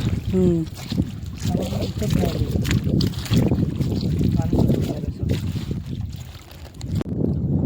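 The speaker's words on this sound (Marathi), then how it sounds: "पण वारा भरपूर आहे" Strong night wind buffets and roars steadily across the microphone on a mud-crab catching outing, with faint voices now and then beneath the rushing noise.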